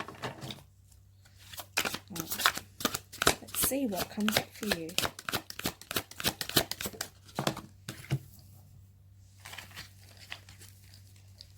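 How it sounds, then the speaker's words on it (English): A deck of tarot cards is shuffled by hand in rapid crisp riffling bursts and snaps, close and clear, with a person talking softly between and over the shuffles. "I'm not the best shuffler, guys."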